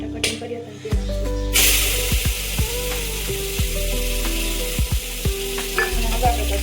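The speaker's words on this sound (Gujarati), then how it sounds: "અને ફાઇનલી જો આપણે ડુંગળીની ને ટમેટા કટિંગ કર્યા હતા તે નાખશું." Chopped onion and tomato hit hot oil already seasoned with cloves and curry leaves, giving a loud, steady sizzle with stirring scrapes throughout and no talk over it.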